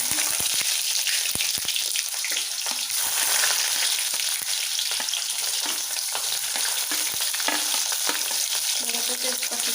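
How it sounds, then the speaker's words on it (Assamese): Chopped onions frying in hot oil with whole cumin and bay leaf for a lightly spiced local chicken curry, giving a loud, steady crackling sizzle with scattered sharp pops and stirring scrapes throughout. "এইখিনি মই ৰঙচুৱা হ'লে ভাজি দিছোঁ ধুনীয়াকৈ।"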